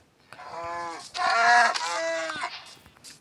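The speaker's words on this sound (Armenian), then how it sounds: "կով ուր ես պախնում կով" A cow mooing in Minecraft, with a few drawn-out, tonal lowing calls in quick succession, fairly close and clear against a quiet backdrop.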